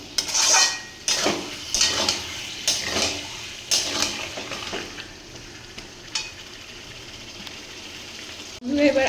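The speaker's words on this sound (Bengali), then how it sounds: "মাংসটা দিয়ে দিলাম, এবার কষাতে হবে এটাকে ভালো করে।" Meat sautéing with spice paste in a pot, sizzling loudly and steadily close by, with repeated scraping stirs from a spoon against the metal every second or so.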